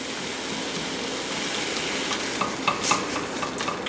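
Ground beef fries and renders in a pan with a steady, close hiss and crackle, broken near the end by a few spatula scrapes and stirs.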